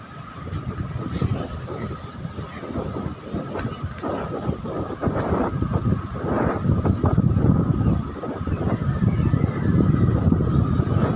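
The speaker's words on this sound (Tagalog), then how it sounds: "Lakas pa rin ng hangin." Strong gusting wind from a passing typhoon buffets the microphone, a loud rumbling roar that surges and eases throughout with no voices.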